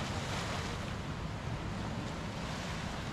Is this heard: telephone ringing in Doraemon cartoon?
no